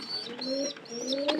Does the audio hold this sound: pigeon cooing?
yes